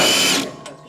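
A power impact wrench removes a nut on a MUSKOX snowblower side flipper, a loud brief whirring rattle up close that cuts off within half a second.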